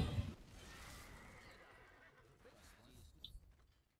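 A horse neighs in the video game Diablo 3 Reaper of Souls, a faint whinny at the start fading under low game ambience.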